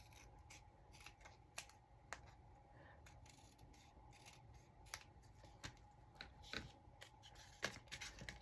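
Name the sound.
scissors cutting off the edge of paper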